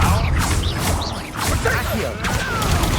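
The Expelliarmus disarming spell cast in the Hogwarts Legacy video game comes through as a dense whooshing magical swell with crackles and clangs, loud and continuous amid busy combat sounds.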